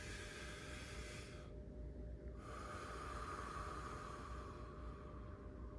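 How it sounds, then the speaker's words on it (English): Slow deep breaths during a stretching exercise, close and quiet, with airy inhalations and exhalations and a short pause between them. "nice deep breaths."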